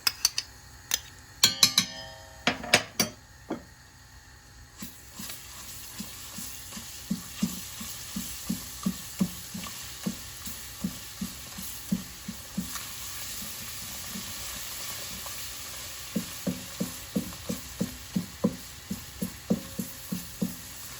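Onions and tomato paste sauté for Turkish tomato soup. A soft pan sizzle runs throughout, broken by regular rhythmic scraping taps of a utensil stirring against the pot and a few sharp clinks early on, with no voices.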